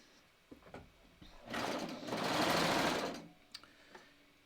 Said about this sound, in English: I'm just going to start serging. I have it set up for a 4-thread.